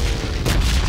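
A bomb bursts in the PUBG Lite battle-royale shooter: a single loud, close boom that hits partway through and leaves a rough rumbling tail over steady low background noise.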